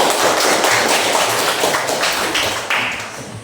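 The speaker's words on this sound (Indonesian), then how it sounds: "Tepuk tangan dulu." Classroom students clapping hands together in dense, steady applause that stays loud and fairly even throughout, with a few sharper individual claps standing out.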